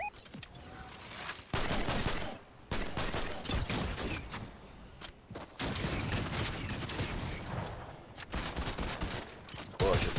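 Rapid bursts of automatic gunfire and repeated shots crackle loudly and almost continuously in a Fortnite battle, with brief pauses between volleys and a voice occasionally talking over the action.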